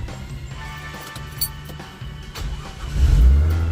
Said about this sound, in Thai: เดี๋ยวสตาร์ทรถให้ดูนะครับ เครื่องนิ่ง